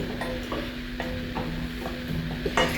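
Apples cook in a pan with a soft, steady sizzle and occasional light stirring taps, close by with no talking over it.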